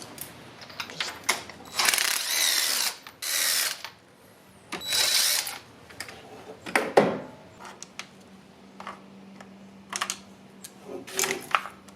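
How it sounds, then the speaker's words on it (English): A hand ratchet clicks in short bursts while spark plugs come out of a 2008 Chevy Cobalt, with louder metallic rasping spells and pauses of quiet between them. "next up we're going to be replacing some spark plugs"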